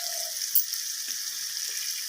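Ginger paste hits a pan of frying red amaranth greens with a soft, even sizzle and a few faint clicks from the pan, without any talking.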